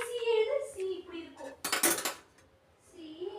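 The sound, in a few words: mixing eggs in a bowl for masala omelette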